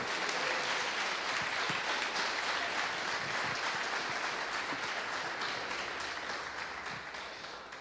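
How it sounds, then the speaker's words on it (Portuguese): A church congregation applauds for Jesus, broad continuous clapping from many hands filling the room and slowly tapering toward the end. "Bate palmas para Jesus."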